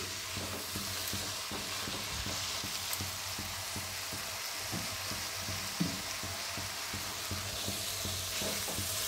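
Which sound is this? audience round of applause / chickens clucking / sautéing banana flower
sautéing banana flower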